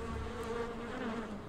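A swarm of hornets buzzes steadily and close in the horror game Infected: Twin Vaccine, a continuous insect drone with no talk.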